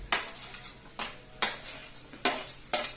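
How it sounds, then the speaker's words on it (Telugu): Ginger garlic paste being stirred in a frying pan for crispy potato fry, a spoon scraping the metal in five or six sharp, evenly spaced strokes, close and clear with no talking. "బాగా మిక్స్ అయ్యేలాగా కలుపుకోవాలి"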